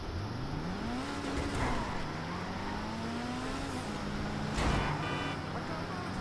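A Pfister 811 sports car in a video game revs up and settles in rising and falling engine sweeps, loud and close, with a sharp burst partway through.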